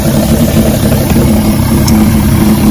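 A 1986 Force 85 hp outboard motor on a Bayliner, running with the throttle advanced for warm-up, makes a steady loud droning hum with no change in pitch, close up, with no talk.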